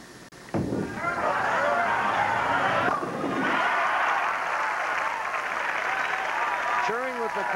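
Crowd at the 1983 PBA National Championship cheering and applauding after a strike, a sudden loud burst of dense clapping and shouts that holds steady for several seconds, with a brief voice near the end.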